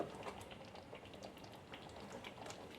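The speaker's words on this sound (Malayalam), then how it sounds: "ശർക്കരയൊക്കെ നന്നായിട്ട് തന്നെ തിളച്ച് കുറുകി വരുന്നുണ്ട് കണ്ടോ" Jaggery syrup bubbling and thickening in a pan while cooking kadalaparippu pradhaman, a steady wet simmer dotted with soft popping bubbles, close and fairly quiet, with no voices.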